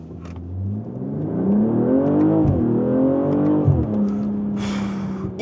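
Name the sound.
2025 BMW M240i xDrive Coupé launch acceleration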